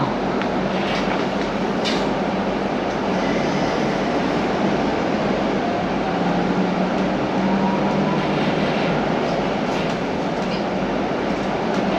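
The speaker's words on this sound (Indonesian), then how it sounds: "车辆行驶中，请紧握扶手。" An MRT metro train runs along at speed, a loud, steady rolling roar with faint rhythmic rail clicks throughout, no talking.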